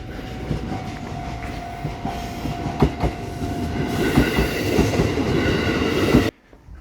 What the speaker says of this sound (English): Looks like there is a train coming